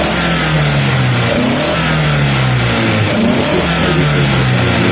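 A car engine, freshly repaired, revving in repeated rising sweeps close by, loud and continuous with a steady idle rumble between the pulls.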